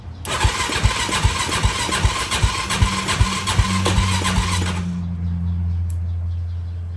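A pieced-together Yamaha YFZ450 ATV that sat for years cranks with rhythmic pulsing bursts under choke, then fires and runs briefly before dropping to a low, steady hum, close and fairly loud.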